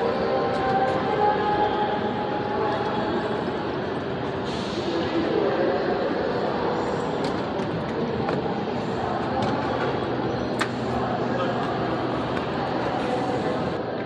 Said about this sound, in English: now we're at the train station here in Amsterdam on our way to Paris